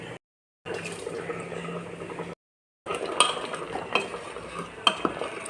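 Water is poured into sambar masala in a pot, with wet stirring and sharp utensil clinks against the pot, broken by two short silent gaps.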